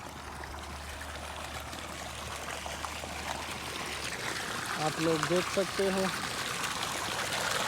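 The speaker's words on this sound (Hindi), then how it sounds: "हम खेतों को पानी पिला रहे हैं" Irrigation water flows steadily through a field channel with a continuous trickling, pouring wash, while someone talks over it.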